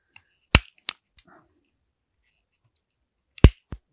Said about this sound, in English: The goal here is obviously to cut the shell off without harming the nut